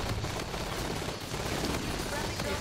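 An assault rifle in Call of Duty: Infinite Warfare fires in one dense, unbroken burst mixed with surrounding battle noise, loud and sustained across the whole moment.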